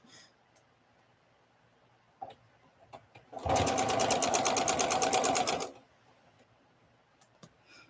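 A sewing machine stitches a quilt seam at a pinwheel block centre in one loud rapid burst of about two seconds, preceded and followed by quiet handling clicks and fabric shuffles.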